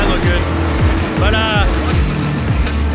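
A G-body drag car at the track with a failing torque converter, its engine droning loud and close with repeated low sweeping surges and a brief high whine midway, over steady background noise.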